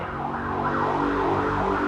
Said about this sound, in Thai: เดี๋ยวเสียงรถพยาบาลผ่านก่อน